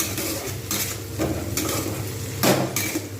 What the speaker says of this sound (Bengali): বেশ কিছুক্ষণ সময় ধরে ভাজব